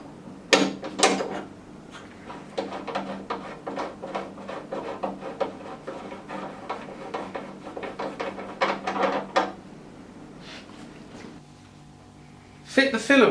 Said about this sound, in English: To remove the filler blank, use a 27mm spanner.